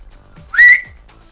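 Cupped hands blow a single short, bright whistle imitating an owl call, rising slightly in pitch, loud and close with nothing else around it.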